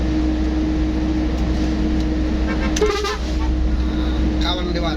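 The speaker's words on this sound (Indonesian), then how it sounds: "Nah itu suara klakson saya guys ya." A car horn toots briefly a couple of times over steady engine drone inside a vehicle, while someone speaks.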